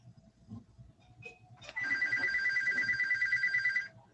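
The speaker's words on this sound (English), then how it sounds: "It's this phone over here." A telephone rings with a loud electronic warble that starts abruptly partway through and holds steadily for about two seconds, after some quiet room noise and soft movement.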